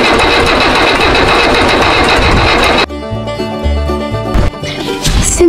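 An engine is cranked over again and again after refueling, failing to catch: a loud, continuous mechanical churning that breaks off abruptly, followed by irregular knocks and clanks with no talking.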